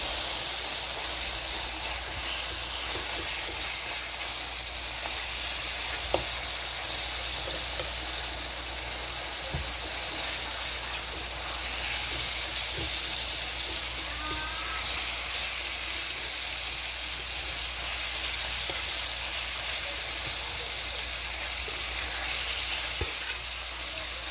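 Shrimp and ground beef sizzle loudly and continuously in a pan for the whole stretch, a dense hiss like steady rain with occasional scrapes and ticks from stirring, close up and without talk.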